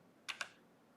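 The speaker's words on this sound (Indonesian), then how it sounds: "Jadi kalau kita tekan F2" F2 key pressed on a computer keyboard: two quick, faint plastic clicks in close succession against a quiet room.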